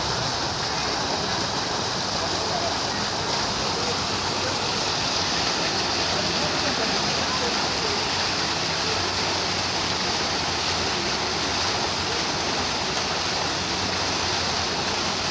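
Rushing water from a waterfall or stream, a dense continuous roar that holds steady and loud for the whole stretch.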